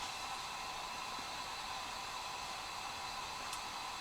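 A Coleman lantern burning inside a large screenhouse gives a steady, even hiss like white noise, unchanging and alone, with no other sounds over it.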